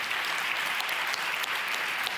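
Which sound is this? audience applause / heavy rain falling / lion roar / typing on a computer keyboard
audience applause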